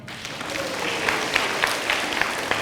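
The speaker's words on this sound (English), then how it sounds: "every single time I do it, people clap." At a public library show, an audience claps after a yo-yo trick, with steady moderate applause building quickly and holding, a few sharper claps standing out.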